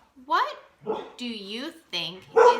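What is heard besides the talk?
dog barking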